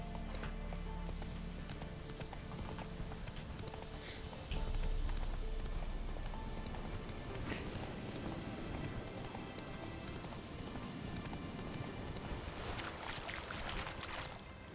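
Roach, a horse in The Witcher 3, gallops steadily with rapid hoofbeats over rough ground, the drumming rhythm continuous and fairly close, with a brief louder swell partway through.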